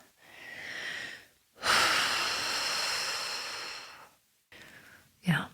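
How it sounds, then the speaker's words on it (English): A person breathes deeply and audibly at close range: a long inhale, then a longer drawn-out exhale like a sigh, followed by a short sharp intake of breath. "let me take a breath here"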